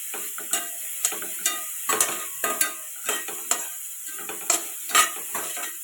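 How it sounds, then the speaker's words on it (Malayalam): Chopped onions sizzle gently in a pan while a utensil stirs and scrapes, giving repeated clinks and scrapes in an uneven rhythm over a soft, steady frying hiss, with no talk. "സവാള ചോപ്പ് ചെയ്തത് ഇട്ട് കൊടുക്കാം. നല്ലപോലെ ഒന്ന് വഴറ്റിയെടുക്കണം."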